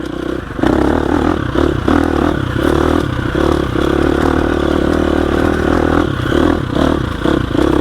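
A 2021 GasGas EX 350F motorcycle grinds over loose rocks in second gear, its steady engine drone close and loud throughout, with clattering and scraping of stones mixed in.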